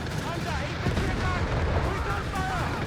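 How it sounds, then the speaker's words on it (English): Bazooka shots amid a dense real-time strategy battle in Company of Heroes 3, a DAK versus US Forces match with flamethrowers on light tanks, giving sustained rumbling booms and crackling fire under a steady roar of combat, with no distinct voices. "Bazooka's firing out"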